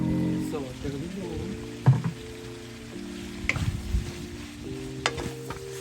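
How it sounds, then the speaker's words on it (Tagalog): Cubed potatoes being stirred in a frying pan as they brown for Cavite-style menudo, with soft scraping and sizzling at close range and a few sharper utensil knocks against the pan. "Halu-haluin lang siya. Ayan, medyo brown na."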